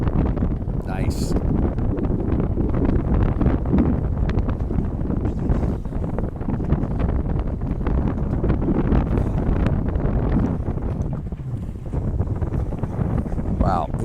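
Wind blows steadily across a microphone aboard a sailboat during a race, a constant rough buffeting roar that runs throughout with little letup.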